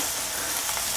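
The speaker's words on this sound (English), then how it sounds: "Beginning to sweat them down with our garlic." Onions and garlic sweat in a pan on a Kamado Joe grill, giving a dense, steady sizzle that stays loud and close throughout, with no talking.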